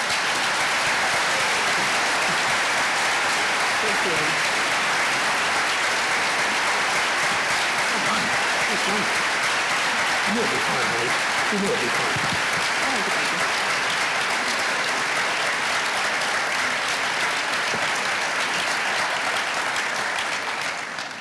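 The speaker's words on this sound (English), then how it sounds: "Let's give them a round of applause." An audience applauds the speakers at the close of an afternoon talk event with Senator Sherrod Brown and Connie Schultz, loud sustained clapping filling the whole stretch, with a brief voice thanking them.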